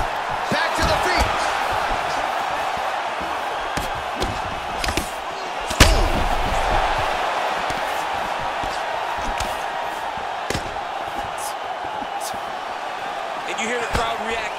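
Arena crowd in the UFC 4 fighting game murmurs steadily and surges as strikes land, with sharp thuds and impacts punctuating the roar, under commentary.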